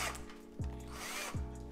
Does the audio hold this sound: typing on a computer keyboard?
no